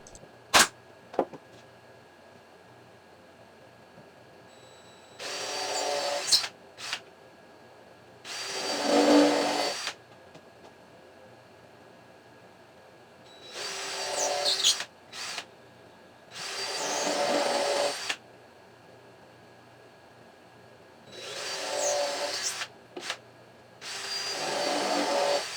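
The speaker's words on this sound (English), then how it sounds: "attaching the base pieces to the sides, first with some brad nails, then reinforcing with screws." Brad nails and screws go into a wooden base for a fretboard radius jig. Two sharp early clicks are followed by several separate bursts of whirring driver noise with quiet gaps between them.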